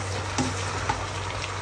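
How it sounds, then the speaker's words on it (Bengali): Vegetables fry in hot oil in a home kitchen pan, giving a steady, moderate hiss over a low hum, with two soft utensil knocks and no talking. "এবার আমি সবজিগুলো ভেজে নিব।"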